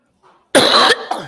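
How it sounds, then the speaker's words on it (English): A single loud, sharp cough close by, followed by a smaller rough throaty burst, after a faint brief sound in near-silence. "I got a cough so bad, I don't know why."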